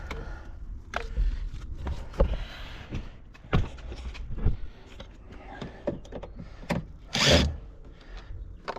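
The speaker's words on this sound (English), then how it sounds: "take the screw out of there." Close-up clicks, scrapes and short thuds of a screw being worked loose from a car door panel, scattered across several seconds with no talking.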